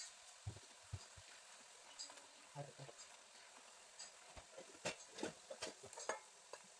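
Ajwain chips of rice flour frying in hot oil, a soft steady sizzle with scattered crackles and pops, close by and fairly quiet.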